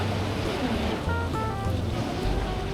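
Surf at Kuta Beach, Bali, after strong winds rolls in as a continuous broad roar of waves mixed with gusty wind noise on the microphone, steady and fairly loud throughout.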